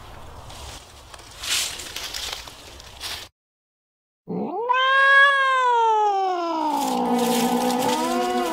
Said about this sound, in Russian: Кажется, там кот.